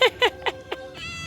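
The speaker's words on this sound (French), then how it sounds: "Encore un chat." A cat at a traditional house in Jakarta, Indonesia gives four short, close, rising-and-falling meows in quick succession, followed by a brief bright call, with no talk over them.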